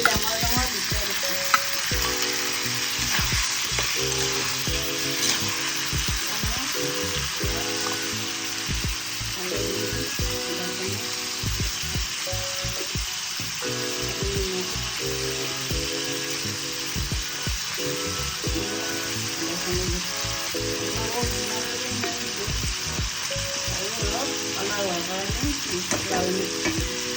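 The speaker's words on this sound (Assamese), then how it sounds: "পিঁয়াজখিনি ভজা হৈ গ'ল। এতিয়া বিলাহী দিলোঁ।" Tomatoes added to fried onions in a pan on a stove, giving a steady sizzling fry with repeated scraping stir strokes throughout and no voices.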